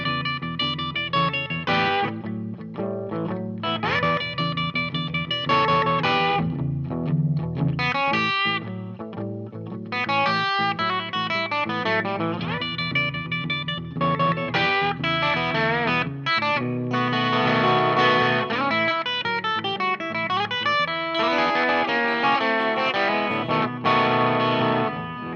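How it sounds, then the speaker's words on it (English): Distorted electric guitar with chorus effect plays a blues lead over a rhythm part, loud, continuous and up-tempo, with no talking. "now I'm gonna pick up the tempo a little bit and also add in the rhythm part"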